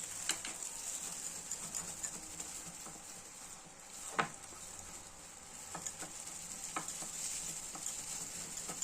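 Beef shawarma frying in a pan with vinegar and lemon juice while being stirred, a soft continuous sizzle with intermittent scraping knocks of the utensil, fairly quiet and close.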